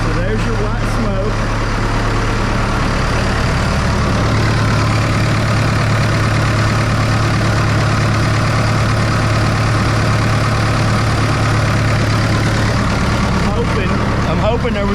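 Cummins four-cylinder diesel engine idling steadily while blowing white smoke, a constant low rumble running close and loud throughout with no talk.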